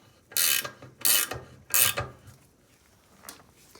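A 3/4 inch ratcheting box wrench tightens a nut on an IH Cub Cadet 982 loader, giving three sharp bursts of rapid pawl clicking in an even rhythm followed by a fainter fourth, close and alone.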